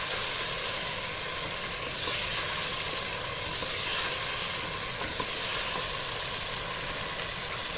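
Goat meat sizzling steadily in a pan after being browned with yogurt and black pepper for a daal chicken dish, a continuous close hiss and crackle with slight swells, no voices.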